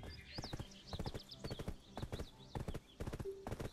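Horse hooves clip-clopping in the video game Black Desert, a quick steady galloping rhythm of close, distinct hoofbeats with a faint snort.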